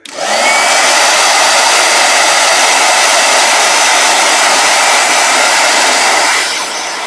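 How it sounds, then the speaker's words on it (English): A handheld blow dryer runs loud and close for about six seconds, a steady, piercing whine over a broad airy rush, switching on sharply and easing slightly as it ends. "All right, one last blow dryer."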